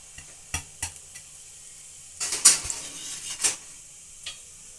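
Whole spices including fennel seeds, cardamom and bay leaf hit hot oil in a pan, giving a soft sizzle with scattered crackles and a few sharp pan clicks, swelling into a brighter frying burst midway before settling again.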